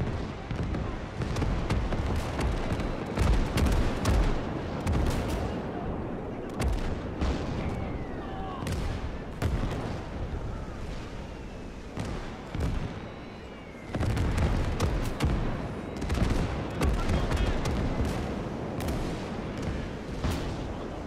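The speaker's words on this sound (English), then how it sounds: "Should we try just shelling?" Artillery shelling on Iwo Jima in a WWII video game: a continuous barrage of booming impacts and bursts, loud and dense, with many overlapping blasts and a brief lull near the middle before the pounding resumes.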